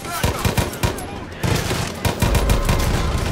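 Rapid bursts from a variable-fire rifle in Far Cry 5, sharp repeated shots close and loud in clusters with a brief lull midway, no talk heard.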